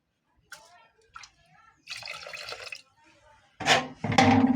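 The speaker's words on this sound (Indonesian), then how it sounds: "kita akan berikan air dan kita ukur airnya" Water poured into a cooking pot after washing rice, two loud splashing bursts near the end following quieter intermittent sounds and faint handling.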